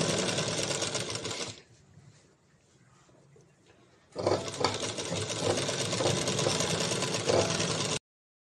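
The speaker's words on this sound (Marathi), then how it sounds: "या पद्धतीने आता आपण ही पूर्ण अस्तर साईड करत करत पूर्ण शिलाई मारून घ्या" A sewing machine stitches the lining of a blouse, running in a fast, close, steady whir, pausing for a couple of seconds, then starting up again and running until it stops abruptly.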